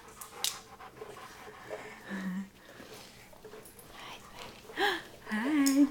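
A dog pants in quick, close breaths, with a few whimpery squeaks and brief voices mixed in.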